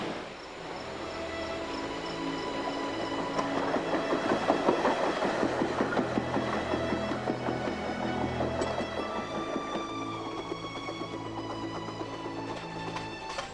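Train riding through the Adirondacks, a steady engine drone with rhythmic clattering and tonal hum that swells gently toward the middle and then settles, fairly faint and continuous with no talking.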